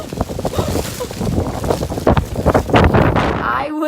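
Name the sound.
strong wind during a blizzard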